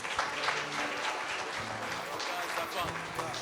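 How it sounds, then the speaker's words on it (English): A room at a youth conference applauding its presenters, continuous clapping throughout with voices speaking over it. "can we have another round of applause for all our presenters tonight?"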